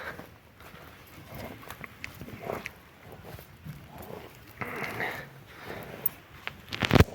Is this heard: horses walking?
yes